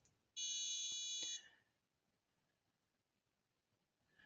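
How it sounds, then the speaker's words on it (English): A buzzer on an IoT device sounds one loud, steady electronic tone for about a second, then cuts off into a quiet room with faint background noise and a brief short beep at the end. "eventually that guy will stop buzzing, and if it doesn't, I can just unplug the buzzer again"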